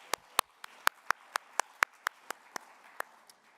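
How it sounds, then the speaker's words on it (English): Sparse, distinct handclaps sound at a symposium on senses and aging after a presentation, about a dozen sharp claps at a fairly even pace, fairly close, with no talking. "Let's give Tena another round of applause for her amazing presentation"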